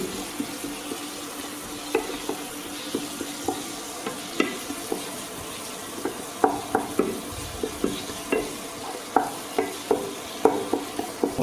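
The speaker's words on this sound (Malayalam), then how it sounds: "എന്നിട്ട് മെല്ലെ ഇളക്കി കൊടുക്കും." A pan of turmeric being stirred before winged beans go in, regular scraping knocks of the spoon against the pan repeating every second or so over a low steady sizzle, close up with no speech.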